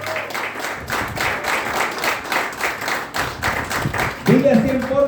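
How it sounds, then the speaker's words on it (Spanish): A church congregation at a Sunday service applauds in steady, full clapping throughout, with a voice rising over the applause near the end. "Dale un aplauso al Señor."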